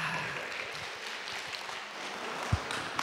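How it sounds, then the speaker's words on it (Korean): An audience at a talk on a world heritage site claps to welcome a speaker, a soft, distant, steady patter of applause with a faint thump near the end. "박수로 이렇게 맞이해 주시고요"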